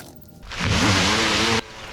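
A bicycle fitted with a Bafang electric motor accelerates on a short test ride, its whining drone rising in pitch for about a second before cutting off abruptly, close and loud, with no speech.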